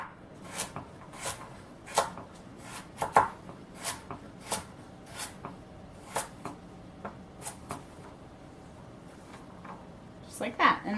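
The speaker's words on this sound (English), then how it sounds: "I'm just going to cut them into rounds" A knife slices vegetables into rounds on a cutting board in a stir-fry cooking lesson, giving a steady series of sharp close chops, about a dozen evenly spaced, with a quiet room behind them.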